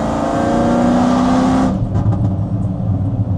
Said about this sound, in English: we're doing a little pull here in fourth gear